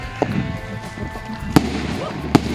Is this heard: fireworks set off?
yes